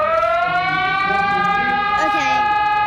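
A Brazilian emergency alert alarm tone blares loudly and steadily throughout, a sustained electronic siren-like sound with stacked tonal layers, some faint background noise mixed in near the end.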